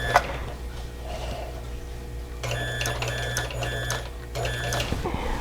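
A quilting sewing machine stitches a quilt in two steady runs of rapid, evenly pulsing mechanical whirring, with a short pause between them over a constant low background hum.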